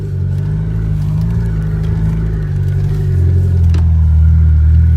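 A 1989 Ford Ranger pickup engine runs steadily with a low, rough rumble, swelling slightly as the gas is tapped during a downshift, close and loud with no talk.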